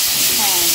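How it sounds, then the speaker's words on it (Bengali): Eggplant slices frying in a pan give off a loud, continuous sizzling hiss that stays steady for under a second, with no talking over it. "বেগুন ভাজা হচ্ছে"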